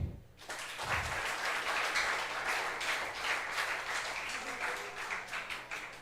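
A church congregation applauds steadily for several seconds, a full room of clapping rising quickly and holding, with no talk over it.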